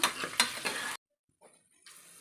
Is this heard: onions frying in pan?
yes